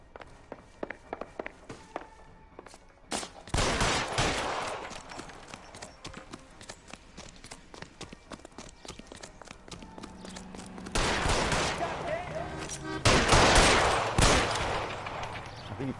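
Gunfire rings out in L.A. Noire as sharp scattered shots tick in the background before several loud bursts of shooting hit around mid-clip and again near the end, with clopping hooves in between.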